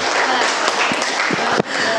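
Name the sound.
applause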